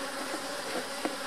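Honeybees hum in a dense, steady drone from an opened, freshly split hive, with the buzz close and continuous and brief louder passes of single bees.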